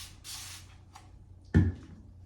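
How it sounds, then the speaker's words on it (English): A spray bottle spritzes water onto shaving lather with a brief, soft hiss, followed a moment later by a louder close thump. "I just started doing this spray bottle method."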